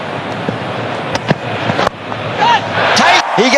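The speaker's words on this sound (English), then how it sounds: "The 9 o'clock fireworks." Fireworks at an India versus Australia cricket test match, several sharp pops and bangs scattered under a commentator's continuous talk and crowd noise.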